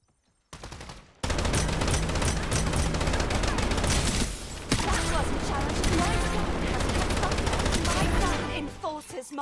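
Rapid gunfire from a video game shooter, dense bursts of automatic shots firing almost continuously at close range after a brief quiet start, with game effects layered in.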